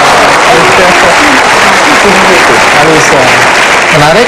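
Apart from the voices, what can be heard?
audience applause on TV talk show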